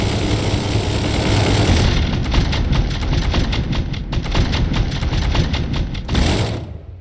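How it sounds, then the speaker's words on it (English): Machine guns on a variable-sweep-wing jet prototype in a video game fire a fast, continuous rattling stream of rounds over a roaring engine drone, starting and stopping abruptly. "It's got some little machine guns right here and some of the heavy machine guns there."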